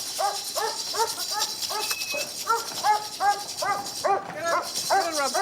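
A sheepdog on a farm barks repeatedly in quick, rhythmic bursts close by, loud and clear, with a voice speaking around the barking.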